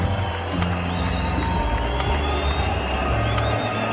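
A cricket stadium crowd at the 2007 World Cup reacts to a massive six, a dense sustained roar of many voices with scattered whistles, steady and loud throughout.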